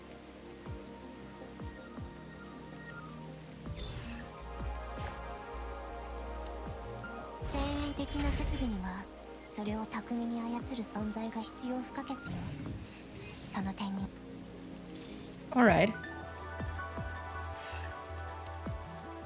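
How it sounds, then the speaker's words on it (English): Steady rain falling in the video game Neural Cloud, a soft continuous patter heard under a person talking, with a few sharper interface-like blips and a brief louder tone near the end. "Rain sounds."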